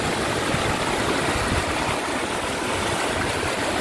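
Rising floodwater rushes through a river in Isabela, a steady, dense roar of churning water heard close by with no breaks.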